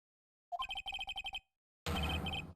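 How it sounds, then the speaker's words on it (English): Mobile phone ringtone from the Phoenix Wright Ace Attorney video game: a quick run of bright electronic beeps, a short gap, then a second, denser burst of ringing tones, clear and close. "Why is my phone a stupid sounding ringtone?"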